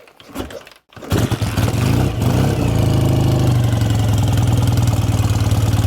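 A 1967 BSA A65 Thunderbolt motorcycle with electronic ignition is kicked over on full choke. After a short stumble and a brief gap, the engine catches and settles into a loud, steady, close-up idle.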